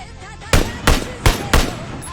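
Gunfire in the video game PUBG: four loud, sharp shots in quick succession, each a hard crack with a short decay, alone and close up.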